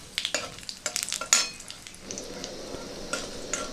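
Dry red chillies and black cumin spit and sizzle in hot oil for a Bengali vegetable dish, with sharp crackling pops at the start that ease into a steady, close frying hiss.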